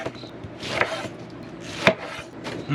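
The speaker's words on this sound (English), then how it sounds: "You got a better way to cut up pineapple, let me know." A knife cuts through fresh pineapple on a board, giving a few sharp, close chopping strokes with short scraping sounds between them.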